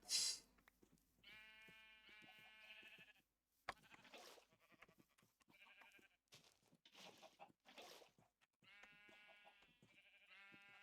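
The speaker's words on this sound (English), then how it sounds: "Is there a sheep up here?" Sheep bleating in an old-school video game: a run of wavering, nasal bleats close up, several in succession with short pauses, clear and alone over a quiet background.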